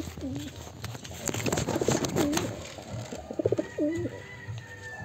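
Pigeons coo in several short, throaty calls at close range while being fed outdoors, with quieter rustling and pecking noises between them and a voice talking faintly in the background.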